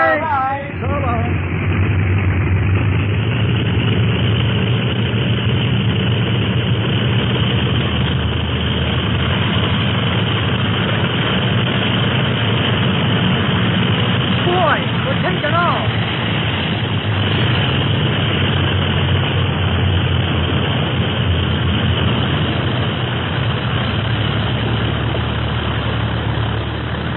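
Steady, droning propeller airplane engine in flight used as a radio drama effect, a continuous loud low hum that runs unbroken for the whole stretch with a brief faint voice near the start.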